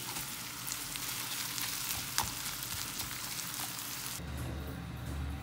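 Onion and green pepper frying in a pan, a soft steady sizzle with scattered crackles and pops, close and fairly quiet, with a faint low hum joining toward the end.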